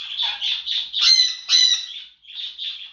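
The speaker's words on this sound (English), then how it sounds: "See how loud a parrot is?" A pet parrot squawks loudly and close up in a run of harsh, repeated calls with a brief pause near the end, with no talking.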